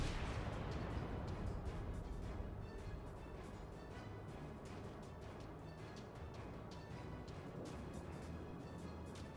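Warship guns fire in World of Warships aboard the battleship Tirpitz, a dense series of booming blasts over a constant rumbling background, steady and fairly loud throughout.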